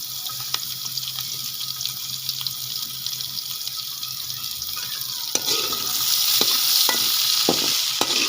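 Carrot, capsicum and cabbage fry gently in a pan for Punjabi-style macaroni, giving a steady soft sizzle; midway, a few distinct scraping clicks of stirring join in as the frying grows slightly louder.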